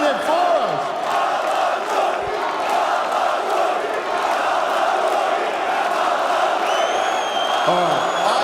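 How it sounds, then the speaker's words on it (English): Arena crowd at an esports playoff event, a loud sustained roar of cheering and chanting voices filling the space throughout, with whoops rising above the din. "I don't think we need to ask them who they're cheering for"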